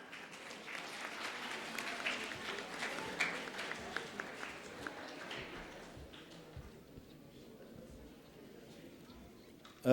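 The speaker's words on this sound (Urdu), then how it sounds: "آپ سب کی بھرپور تالیوں میں تشریف لاتے ہیں زمرد خان صاحب" An assembly audience in Rawalpindi/Islamabad applauds to welcome a guest, a moderately distant, steady round of clapping that gradually thins and fades toward the end.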